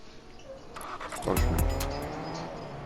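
A car driving in Fortnite rises into a loud engine rev around the middle, with a brief squealing sweep, then eases back to a steady rumble over faint game ambience.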